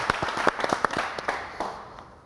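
Audience applause at a quiz game after a Tbilisi State University team scores; a burst of scattered, moderately loud hand claps that thins out and fades over about two seconds.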